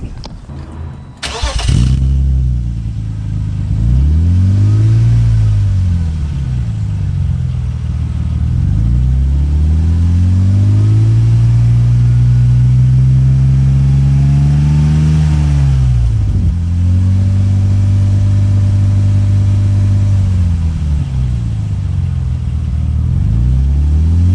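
A 1997 BMW Z3 engine with a homemade cat-back exhaust cranks and starts, then idles with a deep exhaust rumble and revs up and down in several long swells, loud and close.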